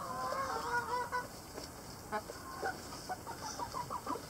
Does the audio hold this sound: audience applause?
no